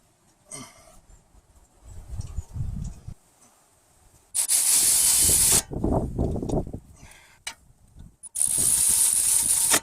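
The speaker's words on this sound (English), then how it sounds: "Now I'll take my 7mm hex socket, get the thread started." A ratchet with a 7mm hex socket threads in a brake caliper bolt on a Ford Escape during a front pad and rotor job, giving several bursts of quick, close clicking separated by quieter handling noises.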